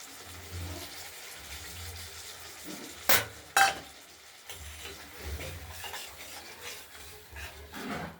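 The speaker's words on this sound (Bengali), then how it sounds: "মশলাটা দিয়ে আমরা কষিয়ে নেব" Spice paste with turmeric is stirred into potatoes in a kadai, producing a low, close scraping and frying sizzle broken by two sharp metallic clanks from the spoon.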